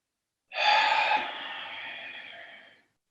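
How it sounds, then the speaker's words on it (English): A long, steady inhalation during a yoga session, starting abruptly, loudest at first and then easing into a softer, sustained breath that fades out near the end, close and alone with no talking. "And then breathing in."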